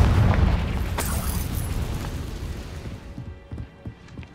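A Confringo fire spell exploding in the Hogwarts Legacy video game, a loud booming blast that rumbles and fades over a few seconds, ending in faint crackling debris pops.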